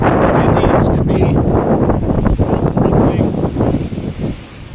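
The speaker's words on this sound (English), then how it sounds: "It's windy, very windy. I don't know if you can hear that" Strong wind buffeting the microphone with a loud, steady roar that barely lets up.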